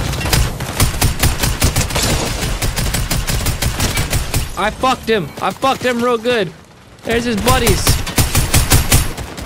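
Rapid automatic gunfire in Fortnite aimed at a motorcycle, dense, loud bursts crackling almost continuously with short gaps, while someone talks excitedly over the shooting partway through.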